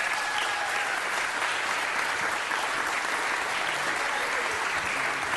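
Steady, dense applause rolls through a city council chamber welcoming new member Nury Martinez, an even wash of many hands clapping at constant loudness throughout.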